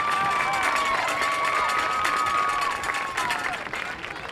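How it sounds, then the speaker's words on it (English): Crowd applause and cheering at a high school homecoming court during a football game, dense and continuous with shouts and whistles over the clapping, fading slightly toward the end. "Once again, a round of applause for Casey Dippre"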